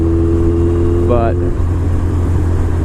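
Engine of a 2007 BMW K1200R motorcycle in the rain, a steady loud mid-pitched drone with a rising whine as it accelerates, a voice briefly talking over it.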